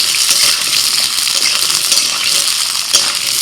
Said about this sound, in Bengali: আলুটা একটু ভেজে নিয়ে দিয়ে দিচ্ছি